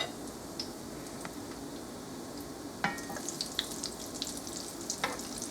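Potato rellenos frying in hot oil, a steady soft sizzle with scattered crackles and small pops throughout, fairly close and moderately quiet, no talking.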